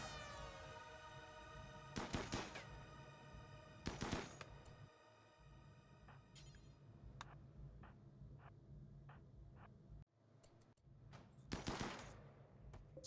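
Video game gunfire aimed at an explosive among turrets and boxes, loud bursts of rapid automatic shots with sharp single cracks and short ringing tones between them.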